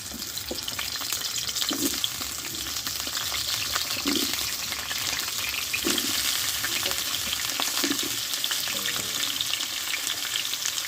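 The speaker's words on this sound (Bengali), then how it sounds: "এই কড়াই আমি দিয়ে দেবো সাদা তেল তোমরা সর্ষের তেলও দিতে পারো দিয়ে কেটে ধুয়ে রাখা আলুগুলো আমি কষে নিব" Cut potatoes fry in white oil in a wok, a loud, continuous hissing sizzle with occasional soft stirring bumps at a slow, irregular pace; no talking.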